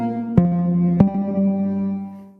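A synthesizer preset from the Bliss Mega Lit instrument sounds two sustained chords that attack sharply about half a second apart and then ring evenly before fading out, with no voice.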